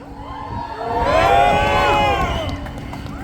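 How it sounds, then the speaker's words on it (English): A crowd at a rally for Palestine in Milwaukee cheers and whoops. The roar swells to a peak in the middle and then tapers, with shouted voices mixed into the babble. "I look at this crowd"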